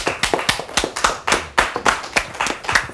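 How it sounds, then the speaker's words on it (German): Audience clapping for a guest on a Swiss television entertainment show, with distinct individual hand claps in a quick, uneven rhythm, close and fairly loud, rising and falling across the room. "Einen warmen Applaus für den Hans Sitz."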